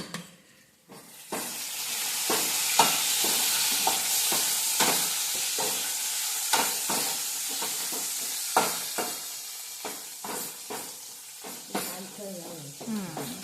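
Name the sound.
garlic sizzling in hot oil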